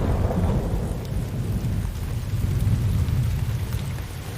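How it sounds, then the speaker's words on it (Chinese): Thunder rumbles in a surround-sound test effect, a loud, sustained low roll with rain-like hiss, continuous and heavy throughout with no voices. "所以在打雷的这个声音的话， 它的冲击力是比较大的。"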